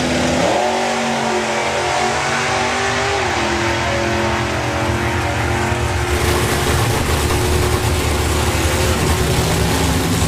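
Intravenous Model T drag racing car on a solo bye run at the STP Greenlight Nationals, a loud engine roar rising and shifting pitch as it launches and pulls hard down the strip, continuous for ten seconds.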